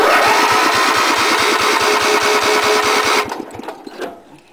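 A Wheel Horse A-800 Ranger lawn tractor engine runs loud and close with rapid, even firing pulses, then cuts out abruptly near the end, leaving faint scattered knocks and rustles.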